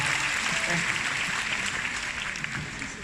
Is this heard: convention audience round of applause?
yes